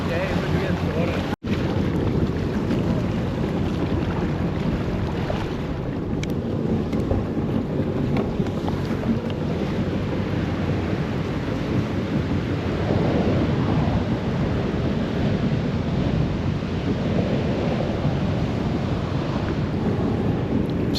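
Wind blows steadily over open sea from the west, a loud continuous roar with microphone buffeting and wave wash, plus a sharp click near the start.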